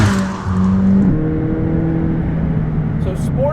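A McLaren 600LT Coupe engine revs and pulls hard, its tone climbing and shifting close by, with a voice talking over the mechanical whir.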